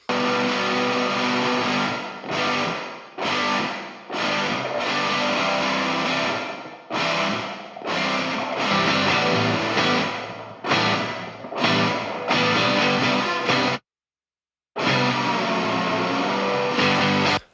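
Distorted rhythm guitars drive a mixed indie/emo rock track, playing loud chopped phrases with rhythmic stops and one full break of near silence before the band crashes back in; no voices are heard.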